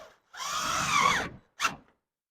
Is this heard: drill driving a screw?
yes